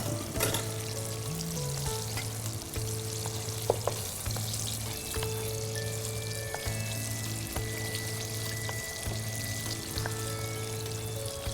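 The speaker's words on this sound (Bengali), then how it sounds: "সিসেমি অয়েল দিয়ে আমরা শুরু করেছি, এখন আমরা সিসেমি সিডস দিচ্ছি" Sesame seeds tipped into a sauce bubbling in sesame oil set off a steady, close sizzle and fry hiss, with a brief pour and stir clatter near the start and no one talking.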